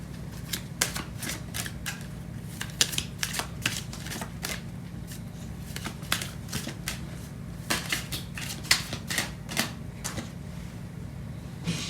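Tarot cards shuffled continuously at close range, a steady stream of quick riffling flicks and soft slaps with no talking.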